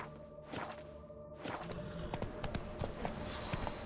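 Roach, a horse in The Witcher 3 during the Blood and Wine expansion, runs with steady clip-clop hoofbeats and rustling swishes over a continuous game ambience, with no talking.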